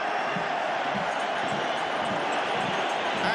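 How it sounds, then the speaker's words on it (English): A football crowd at Wembley for a League Cup match between Nottingham Forest and Southampton gives a sustained, distant roar of cheering that stays constant throughout. "The crowd can see them too."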